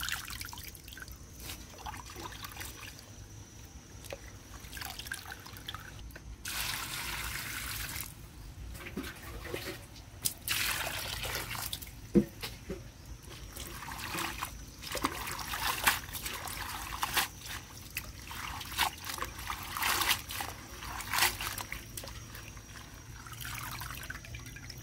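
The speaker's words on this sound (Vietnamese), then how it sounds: "ngâm khoảng chừng 5 phút gì đó, rửa hai ba nước cho thật là sạch" Sweet potato greens being rinsed by hand in a basin of water, with soft intermittent drips, trickles and splashes at close range and no talking.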